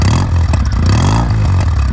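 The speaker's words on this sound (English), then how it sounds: "As you can hear the exhaust, this is the 360 degree. Give it a little rev, Chris." Kawasaki W650 motorcycle with a 360 degree parallel-twin engine, baffles cut out and rejetted, idling with a loud, close, throbbing exhaust that rises briefly as the throttle is blipped.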